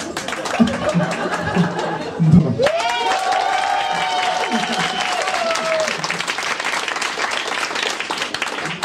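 Stand-up comedy crowd at Comedy Club Sofia claps loudly and continuously, a thick wash of applause with scattered chuckles, a whistle and crowd chatter mixed in, sustained for the whole stretch.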